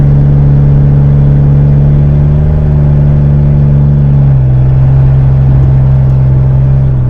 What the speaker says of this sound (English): This is a loud engine.